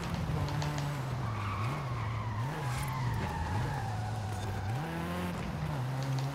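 A car in Forza Horizon 5 braking into a corner, tires skidding and squealing over a steady wavering engine drone with shifting pitch, loud and continuous, no talking.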